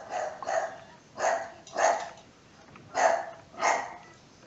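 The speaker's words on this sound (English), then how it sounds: "Just quietly tell your dogs to shut up." Dogs bark in six separate loud bursts at a steady uneven rhythm, fairly close, with no talk over them.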